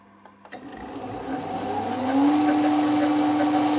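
Smarty AT-300 lathe starting up and running at 460 RPM, a motor whine that rises after a few clicks and settles into a steady hum with rubbing machining noise.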